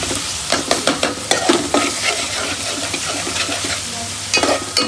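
Garlic, curry leaves and chillies sizzle loudly in hot oil in a pan while a spoon stirs them in quick, repeated scraping strokes, close and continuous.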